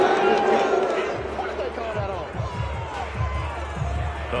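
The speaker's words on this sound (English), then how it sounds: "The crowd doesn't like that." A stadium crowd in the Madden NFL 22 football game on PS5 roars and murmurs in disapproval, a loud, broad swell that fades slightly, with commentary voices over it.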